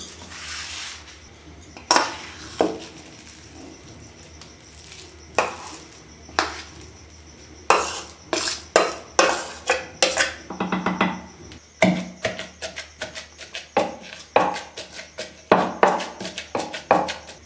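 Beef shami kabab mixture being pounded, sharp hard knocks that start sparse and then become rapid and rhythmic, ringing with a metallic clatter, close and loud with no talking.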